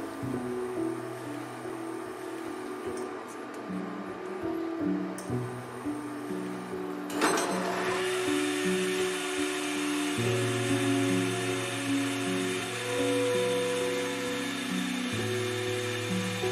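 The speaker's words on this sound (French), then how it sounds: "commence à fouetter la meringue à vitesse moyenne forte" An electric mixer whisks egg whites into meringue at medium-high speed for chocolate macarons, giving a steady, continuous motor whine whose pitch shifts and steps several times, with a brief scraping clatter partway through.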